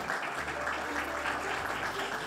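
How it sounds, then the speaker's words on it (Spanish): Loud, dense applause at an importer of the year awards ceremony in Paraguay, greeting the Kimberly Clark Paraguay representative, sustained clapping from the crowd. "Fuerte aplauso"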